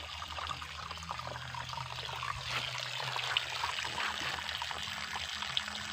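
Water trickles and drips from the old roots of a tall tree at a spring, a soft, continuous pouring and dribbling sound heard close by.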